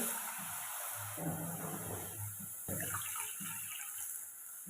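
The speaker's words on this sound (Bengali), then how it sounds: "দিয়ে দিলাম দুই বাটি জল" Two bowls of water pour into rice and lentil flour in a bowl, a steady gushing splash that runs the whole time at close range. Nobody speaks.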